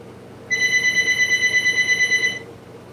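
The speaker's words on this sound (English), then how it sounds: "Sorry for the phone ringing in the back. That's the house phone ringing," A house telephone rings in the background with a single sustained electronic warble lasting about two seconds, pulsing rapidly, then cutting off into quiet room tone.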